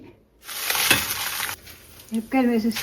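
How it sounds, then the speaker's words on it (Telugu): Dried red chillies hit hot oil with a bright, crackling sizzle and some stirring, close and loud, followed by a short burst of talk. "మన మిరపకాయలు వేయించుకునే కోసం ఇగో వేసేసి, ఇది మిరపకాయలు"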